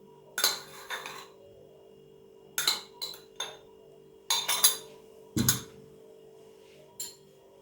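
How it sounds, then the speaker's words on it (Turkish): A metal tablespoon clinking against a plate while measuring powdered sugar for cinnamon walnut cookies: several sharp, close taps in small clusters, separated by quiet pauses. "yemek kaşığına 3 kaşık pudra şekeri tabağımıza alıyoruz"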